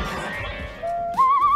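A hand whistle made by blowing into cupped hands, a single breathy tone that holds steady, then jumps higher and wavers slightly, loud and close over a faint background hiss.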